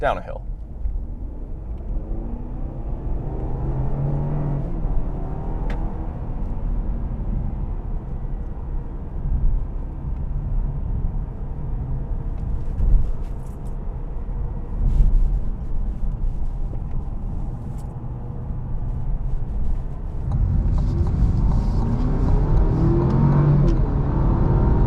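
A 2025 Cadillac CT5 Sport's engine pulls from around 2,000 RPM in second gear, a steady rumbling drone heard from the cabin that climbs gradually toward the end, with someone talking over it.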